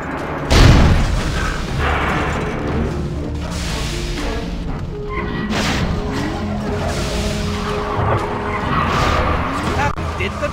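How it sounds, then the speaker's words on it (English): Cannons fire at a boss in a Mickey Mouse video game, a heavy boom near the start followed by rumbling and clattering mechanical effects over game music, with speech throughout. "Fire the cannons, ye blooming cockroaches!"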